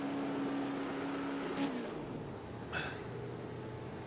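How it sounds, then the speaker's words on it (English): A V8 Supercar pulls out of pit lane at Ruapuna Park during a race, its engine a sustained broadband roar with a couple of brief surges, steady and fairly close throughout. "Matty Seekin tyres done and smokes it out of pit lane"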